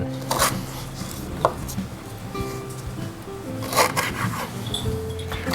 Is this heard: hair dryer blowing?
no